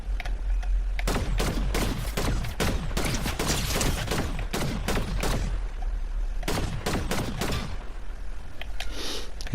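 Rapid bursts of gunfire in the Fortnite video game, loud and close, with repeated volleys rattling off in quick succession and a short lull near the end.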